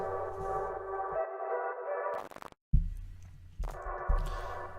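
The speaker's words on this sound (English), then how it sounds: "more reverb, but that's automated because it sounds like it's coming from far away" A hazy synth tone with automated heavy reverb sounds distant and washed out, over a low throbbing pulse that drops out briefly and returns.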